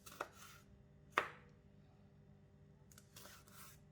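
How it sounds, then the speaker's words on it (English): A knife cuts the stem off a chili and slices it in half on a board, a few quiet close taps and chops separated by pauses. "Next, cut off the stem from the chili and into half slantingly."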